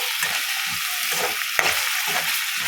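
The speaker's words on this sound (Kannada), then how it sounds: "ಅದನ್ನು ಫ್ರೈ ಮಾಡ್ಕೊಳ್ಳಿ" Finely chopped tomato frying in a pan over onion cooked to light golden, giving a loud continuous sizzle with a few soft stirring scrapes, close up and with no voices.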